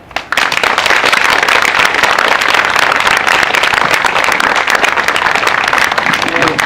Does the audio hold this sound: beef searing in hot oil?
no